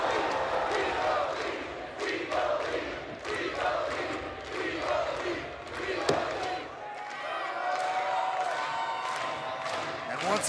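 Wrestling crowd cheering and roaring throughout a No DQ match between Joe Hendry and Eric Young at TNA iMPACT, a steady dense arena din with a sharp slam-like impact midway and scattered shouts.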